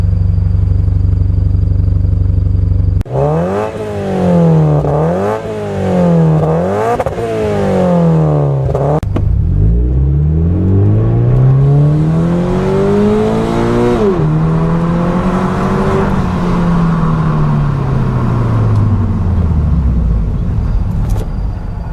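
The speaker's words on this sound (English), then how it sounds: "Decent acceleration, good brakes, and a very loud exhaust." A 2016 Scion FR-S sports car engine revs hard through rising gear shifts, its loud exhaust roaring up and down, then a long sweeping acceleration passes close by.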